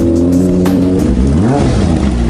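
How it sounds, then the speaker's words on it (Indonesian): A Kawasaki Ninja sport motorcycle engine revs loudly up close, its pitch rising and falling in quick throttle blips. "Ini motor apaan sih? Berisik banget."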